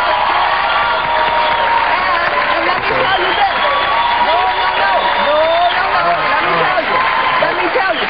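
Studio audience on a political talk show applauding steadily for several seconds, a dense, continuous wash of clapping with scattered cheers and whoops, voices mixed in throughout.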